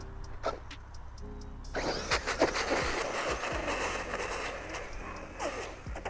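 A Traxxas Sledge RC monster truck popping a wheelie, its electric motor whirring and revving up sharply, followed by steady driving noise with tire and chassis clatter.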